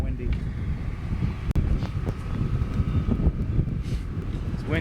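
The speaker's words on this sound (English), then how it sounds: "It's getting kind of windy." Gusty wind buffets the microphone outdoors on a city street, a steady low rumble running throughout with a brief sharp dropout midway, while someone talks over it.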